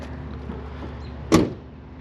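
The door of a 1968 Chevelle SS shutting, one solid, close thunk after a quiet moment of low background noise, with a brief rattling decay.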